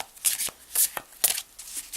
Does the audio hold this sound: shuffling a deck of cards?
yes